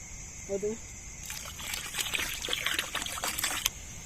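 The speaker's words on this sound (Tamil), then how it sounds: "ரோஸ் வாட்டர் ஊற்றிடலாம்" Rose water trickles into a pot of Malabar country chicken biryani, a soft liquid pour lasting a couple of seconds over background hiss and kitchen murmur, with a brief voice early on.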